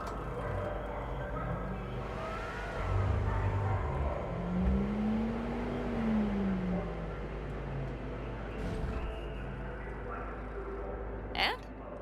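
A car cruises in Cyberpunk 2077, its engine humming steadily at moderate volume, rising and falling in pitch as it accelerates and eases off, with a brief sharp noise near the end.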